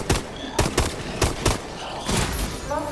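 MP11 submachine gun fire in Call of Duty Advanced Warfare Exo Zombies, several sharp bursts of rapid shots in quick succession with brief pauses between, loud and close, followed by a shorter burst near the end.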